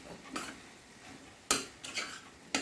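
Kothu parotta with a broken egg is mixed in a pan over a slow flame. A metal utensil scrapes softly, and a few sharp clanks ring out against the pan. The sound is faint and there is no talk.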